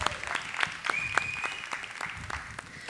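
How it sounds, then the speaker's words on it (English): Scattered, fairly close applause from an audience at a glassblowing demonstration, individual claps distinct and uneven, with a brief whistle-like tone and some crowd murmur mixed in. "Let's give him a big round of applause for that stuff"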